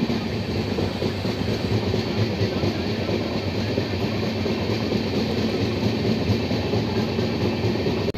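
The 13063 Howrah–Balurghat Express, a new LHB-coach train, runs with a dense, continuous roar and rattle of wheels on rail, loud and unbroken throughout.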